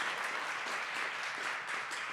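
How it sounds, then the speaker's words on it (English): Sustained audience applause closing a panel discussion at a Lithuanian foreign policy conference, a dense steady wash of many hands clapping at even loudness throughout. "thank you very much for both of our speakers, and the last big round of applause."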